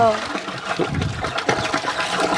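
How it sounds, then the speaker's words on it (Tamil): Water gushes steadily from a tap that supplies drinking water, a continuous splashing flow with a voice talking over it. "ஓ, தண்ணி அதில் நல்லா வரும்"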